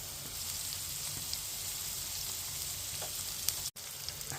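Butter sizzles with carrots in a hot pan, a steady soft frying hiss throughout with a few faint crackles, quiet and continuous.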